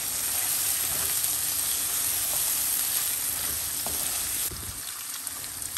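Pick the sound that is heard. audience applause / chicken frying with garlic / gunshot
chicken frying with garlic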